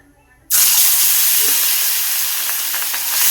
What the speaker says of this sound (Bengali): তেল গরম হয়ে গেছে, এবার মাছ রান্না করব।